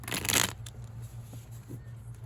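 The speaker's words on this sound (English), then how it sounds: "I'm going to shuffle the first deck, just a few more times" A deck of tarot cards shuffled by hand: one brief, brisk papery riffle at the start, then near silence with faint handling noise.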